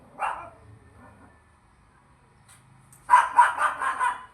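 A freshly bathed pet dog barks, one short bark followed by a quiet pause, then a close burst of several rapid barks at the end.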